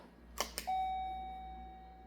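Two quick chime strikes followed by a long, steady electronic tone that slowly fades, a doorbell in Castles of Dr. Creep on a Commodore 64, in a quiet room.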